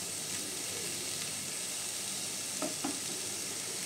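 Potatoes mashed with turmeric fry in a pan and are stirred, giving a steady, close sizzle with two soft knocks of the spoon near the end.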